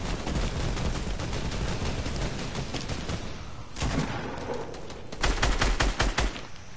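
Rapid gunfire from the video game Fortnite rattles in dense automatic bursts, moderately loud and continuous, with a brief lull before heavier volleys near the end.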